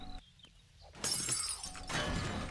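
Glass shatters in the 7 Days to Die survival game inside a shopping mall, a sudden bright crash followed by tinkling fragments and a second breaking burst, loud and close.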